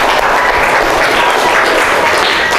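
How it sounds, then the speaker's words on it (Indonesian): Audience applause at a classroom or school-style gathering in Indonesia, a dense, steady wash of clapping filling the whole moment at close range with no speech over it. "Ya, tepuk tangan."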